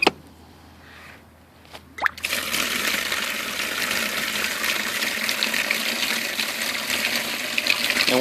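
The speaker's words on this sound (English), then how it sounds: "I just fill it with water." Water rushes steadily from a tap into a bucket of butchered cow meat cuts, starting after a couple of seconds of quiet with a sharp knock, then a loud, continuous gushing fill.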